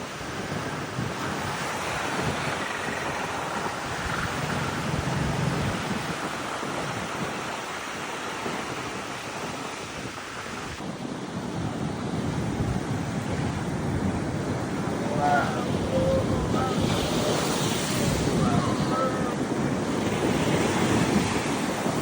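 Sea waves roll and wash onto a beach under gusty wind buffeting the microphone, a constant roar of surf that swells louder toward the end, with faint voices in the background.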